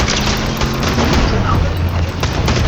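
Bomb explosions in the Fortnite video game, heavy dense booming blasts and rumble running continuously through a short, loud stretch, with players talking over the noise.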